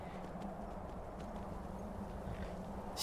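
Steady clip-clop of horse hooves trotting in Skyrim, a continuous even rhythm at moderate level that carries on alone for the whole stretch.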